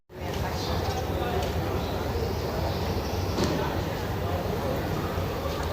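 The Pakistan Railways Shalimar train from Lahore arrives at Karachi Cantt station, a loud, continuous roar of rolling stock and rushing noise close by that fills the whole stretch without a break.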